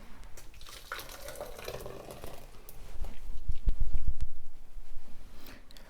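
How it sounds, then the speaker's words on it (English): Butter chicken sauce from a one-pot recipe is poured into a bowl, a close, steady liquid pour that swells louder toward the end with no talking. "We're actually gonna transfer this sauce into our bowl."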